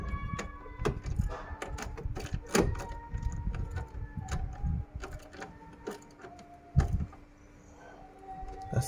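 Ratchet wrench with a 10mm socket undoing bolts during starter motor replacement on a VW Golf TSI Mk6 Twincharger, giving close, irregular clicks and short mechanical bursts over a low workshop hum.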